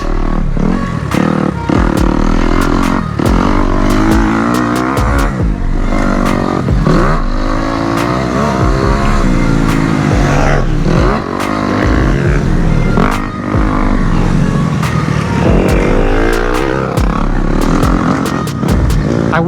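A dirt bike rips around a motocross track at a Texas motopark, its engine loud and close throughout, revving up and down through gear changes and throttle bursts over the whole lap.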